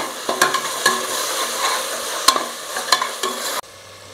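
Mushroom biryani masala with curd is stirred and sautéed in a pressure cooker, producing repeated spoon scrapes and clacks over a soft sizzle, before the sound drops away abruptly near the end.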